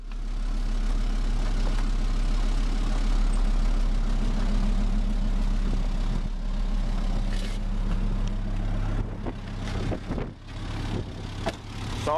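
A wood gasifier-powered vehicle engine idles with a steady low rumble and a constant deep hum, heard close and continuous, with wind buffeting and some handling noise toward the end.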